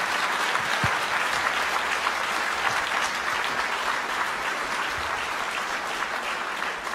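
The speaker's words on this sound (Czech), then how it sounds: "Potlesk pro vás." An evening folk music concert audience claps in sustained, dense applause, steady throughout with a few louder claps standing out near the start.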